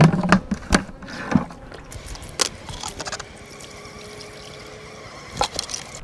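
Liquid sugar syrup for feeding a new honeybee colony splashes and trickles in a few short pours, then settles into a quieter steady flow with a faint outdoor hum.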